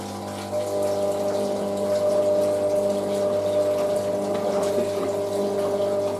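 A Hotpoint Aquarius WM63 washing machine starts its spin: a steady, loud motor hum with a rushing, water-like churn that holds evenly throughout, with no voices.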